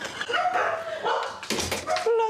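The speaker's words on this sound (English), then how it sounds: "how many dogs are there?" Several dogs bark and yip, mid-distance and overlapping, whining between barks indoors in a house, with continuous loud, busy yapping across the clip.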